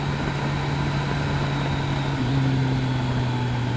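A Kawasaki GTR1400 motorbike engine drones steadily on a wet road, its pitch stepping up partway through as the throttle opens, with constant rain-soaked road and wind roar underneath.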